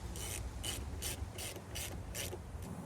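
A ratchet tightens down an intake part on a Silverado, giving seven evenly spaced quick clicking bursts, close and fairly quiet, with no talking.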